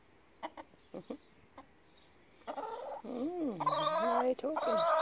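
A rescue hen squawks in rising, wavering, drawn-out calls that grow louder and more insistent, preceded by a few short clucks, close by and with no one talking over them.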